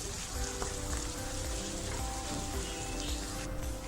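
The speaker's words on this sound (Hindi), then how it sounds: "कीमे को भी अब मैं भून लूंगी तकरीबन 5 मिनट तक लगातार इसी तरह से चम्मच चलाते हुए" Minced meat (keema) frying in a pan over a medium flame while being stirred continuously with a spoon, a dense, steady sizzle with faint scraping, close and fairly loud.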